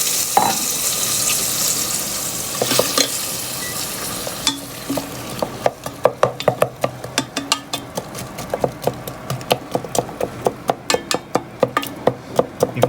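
Onions and garlic hissing as they hit hot oil in a pan, a broad sizzle that settles into quick, regular spatula taps and scrapes growing louder toward the end, heard up close without voices.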